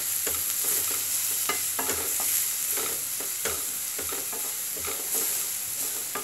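A spoon scrapes and knocks repeatedly against a pot of meat sauce thickened with flour over medium heat, over a continuous soft sizzle, with the stirring strokes coming in an uneven rhythm.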